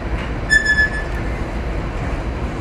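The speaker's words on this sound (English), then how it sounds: "We are now arriving at Toronto Union Station." A passenger train arrives at Toronto Union Station with a continuous close rumble of rolling wheels and a brief high wheel squeal near the start.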